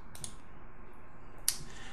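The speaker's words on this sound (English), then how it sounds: "I can hit Control V on my keyboard or paste" Two quiet, sharp keyboard key clicks, the first soft and the second slightly louder about a second later, over faint room noise, as a Ctrl+V paste shortcut is pressed on a computer keyboard.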